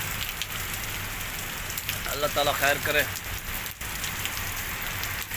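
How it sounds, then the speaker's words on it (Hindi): Heavy rain pours down steadily in a dense, close hiss throughout, with a voice speaking briefly over it midway. "बहुत ज़्यादा हो रही है बारिश"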